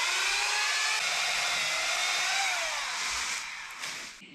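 A power tool whines steadily during overhead pruning, a close, continuous high-pitched motor buzz that holds for several seconds before tapering off, with no talking.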